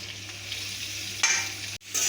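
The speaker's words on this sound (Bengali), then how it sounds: "সব সবজিগুলোকে একসাথে ভালো করে নেড়ে চেড়ে নেব।" Chopped vegetables and tomatoes sizzle steadily in a hot pan while being stirred, with a couple of brief scraping bursts from the spatula.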